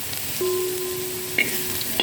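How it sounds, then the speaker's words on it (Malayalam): Potato frying in butter in a pan, a steady sizzling hiss with a few light scrapes of stirring, close and without voices. "ഫസ്റ്റ് ഇത് വെണ്ണയിലിട്ട് വറുത്തെടുക്കാം"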